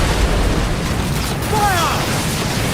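Ship-mounted mortars fire in Assassin's Creed Black Flag: a loud, continuous booming rumble fills the whole stretch, with faint whistling streaks rising partway through.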